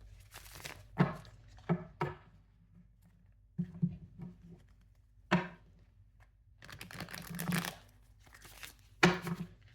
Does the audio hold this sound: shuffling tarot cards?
yes